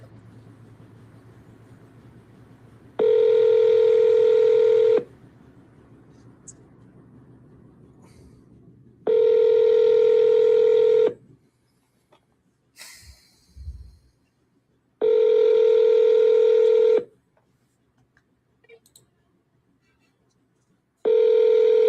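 Ringback tone of an outgoing telephone call to a seller about a San Antonio property: four loud, steady rings, each about two seconds long, evenly spaced by quiet gaps with faint handling noises and no talk.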